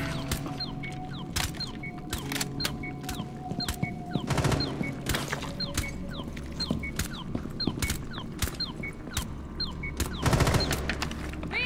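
Rapid bursts of gunfire ring out in the Rainbow Six Extraction video game, sharp repeated shots in quick volleys with short pauses, fairly close and crisp over a quiet background.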